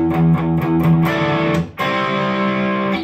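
Distorted electric guitar plays the intro riff of a song, a few picked notes followed by sustained ringing chords, loud and close, with no talking.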